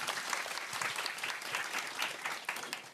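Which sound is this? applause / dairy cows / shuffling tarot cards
applause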